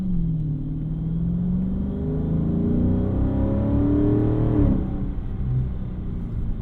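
A 2017 Dodge Charger Daytona 392 with its V8 engine, heard from inside the car under gentle, light-throttle acceleration. A steady low rumble rises smoothly in pitch, then settles briefly before picking up again, close and continuous.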